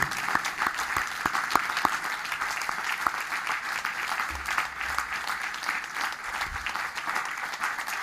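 Sustained applause from a large congregation at Jasna Góra during a Catholic Renewal in the Holy Spirit vigil, dense and even clapping with a few sharper claps standing out, steady throughout.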